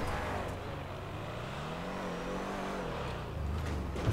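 A 4x4 car engine in GTA 5 idles and drones at low revs, a steady close rumble with a slight rise and fall in pitch but no real acceleration, heard on its own.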